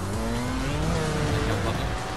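A motorbike in the game Trial Fusion revs hard and pulls away, a loud continuous engine whine climbing in pitch over a couple of seconds, close and without speech.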